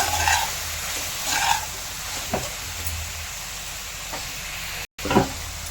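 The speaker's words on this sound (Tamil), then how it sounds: "தக்காளி நல்லா வதங்கிட்டோம்." Five puréed tomatoes sauté in a pan for paneer butter masala, a steady soft sizzle with a low hum beneath and a few faint scrapes and taps of a spoon, heard alone without talk.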